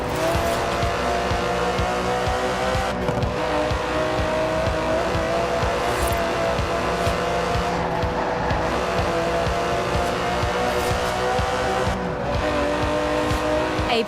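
An Aston Martin DB11's 5.2-litre twin-turbo V12 roars loud and sustained in Forza Horizon 4, a dense continuous engine drone with tyre noise woven through it.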